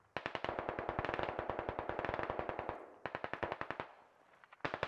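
Rapid automatic gunfire in the military shooter Squad rattles out in long, evenly spaced bursts of sharp reports, close and loud, with short pauses between volleys and nobody talking.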